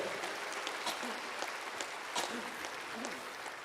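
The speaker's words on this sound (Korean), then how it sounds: "우리 하나님께 영광 올린 찬양대에게 다시 한번 박수 보내주십시오" A church congregation applauds its choir at a Korean War veterans' thanksgiving service, a steady, dense wash of many hands clapping with a few louder bursts throughout, at moderate level.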